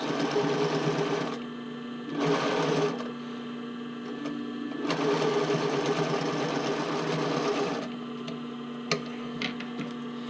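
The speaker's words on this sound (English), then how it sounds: "I usually don't do the top stitching, but it makes it look a little bit more refined." A sewing machine top stitches the neckline of a sports bra, running in several steady bursts of rapid mechanical stitching separated by short pauses, close and clear with no talking.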